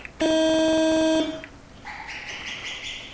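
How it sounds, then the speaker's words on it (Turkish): A loud, sustained two-tone double horn blast from an Otokar city bus in Euro Truck Simulator 2, lasting about a second, then a quieter engine or electronic hum continues afterward. "Böyle çift korna var."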